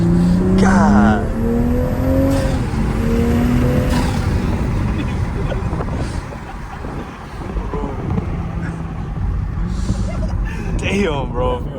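An Infiniti Q60 Red Sport fitted with an ARK Grip catback exhaust revs and pulls away, engine tone rising and falling loud and close with wind buffeting the microphone, while voices are heard alongside.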